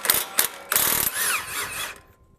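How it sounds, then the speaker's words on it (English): A half-inch drive ratchet loosening a 21 mm front shock bolt on a Mercedes ML W163, heard as fast, loud clicking pawl bursts close up, then a longer ratcheting run that fades out. "half-inch drive ratchet with a 21 millimeter bolt"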